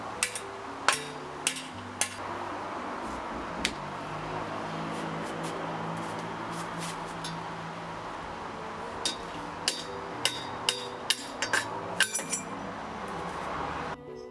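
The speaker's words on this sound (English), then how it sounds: "Put something like an Allen key through the seat post and hammer it down or side to side." A hammer strikes an Allen key pushed through a bicycle seat post, sharp metallic taps in irregular bursts, some spaced out and others in quick clusters, over a low steady background hum.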